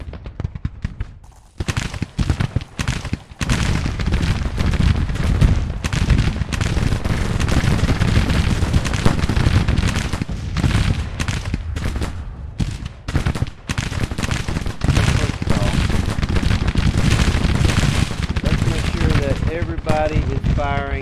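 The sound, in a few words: gunfire of Civil War troops in Grand Tactician video game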